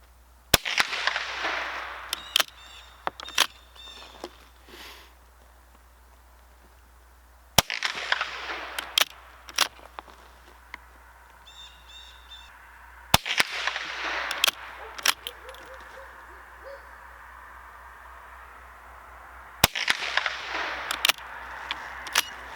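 Antique rifle fitted with a Lyman No. 1 peep sight fired outdoors at a range: four sharp, loud shots spaced several seconds apart, each followed by a fading echo and smaller cracks from nearby shooters.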